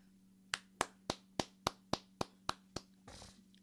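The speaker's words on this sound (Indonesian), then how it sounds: "Beri tepuk tangan yang meriah yuk di tempat kita masing-masing." A single person clapping about ten times in an even, steady rhythm, each clap sharp and close, over a faint constant hum in a quiet room during a church-style livestream.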